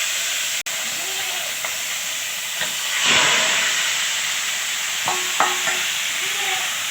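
Meat frying in a pan in a home kitchen, a steady close hiss and sizzle with a few clinks of stirring and brief voice bits.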